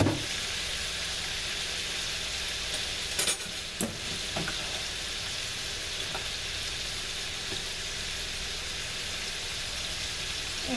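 Organic chicken thighs brown in a pan with a continuous, fairly quiet sizzle and spatter, and a few brief utensil clinks early on, without speech.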